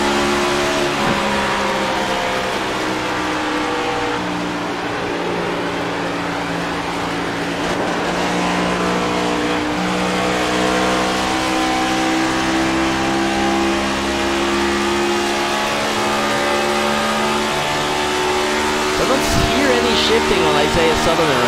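A race car engine in an Area 51 Racing League NextGen Series race roars and revs with rising and falling pitch as gears change, heard at a distance alongside steady crowd and commentary noise.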